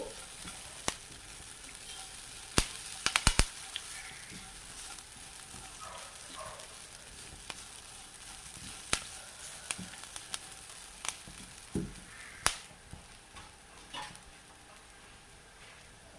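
Onion, chili, grated coconut and spice paste fry in a pan for a thoran, a low steady sizzle with a few sharp clicks and scrapes of stirring scattered throughout.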